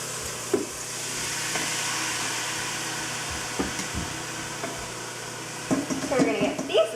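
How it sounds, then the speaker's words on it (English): Vegetables sautéing in a Ninja Foodi pot make a steady, moderately loud sizzle with occasional scraping and stirring knocks, growing busier toward the end. "First step is sauteing the veggies."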